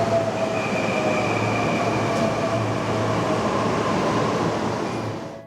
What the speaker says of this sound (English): Now we're on the last train at 5:56 p.m. heading to Takahagi Station.